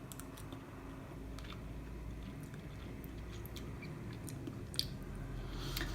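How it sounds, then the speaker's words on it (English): Someone chews a mouthful of ready-meal rice, making faint, soft, moist clicks and squishes close up in a quiet room, with no talking. "I'm just going to try a bit of the rice on its own."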